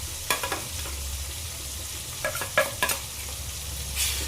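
Ginger garlic paste fries in a pan after tomatoes for an egg curry, a low steady sizzle punctuated by several sharp scrapes and clacks of a spatula, with a burst of hissing near the end.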